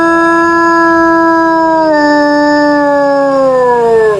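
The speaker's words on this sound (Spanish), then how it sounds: "mientras los aullidos de la loba" A she-wolf lets out a single long howl, clear and close, holding a steady pitch before sliding downward at the end.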